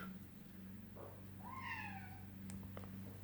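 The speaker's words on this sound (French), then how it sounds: "Ah, Roquette miaule." A cat named Roquette meowing to be let inside, one clear rising meow at moderate distance over a low steady indoor hum.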